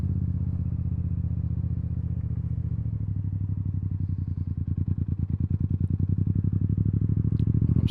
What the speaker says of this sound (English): that's how you properly rev match downshift.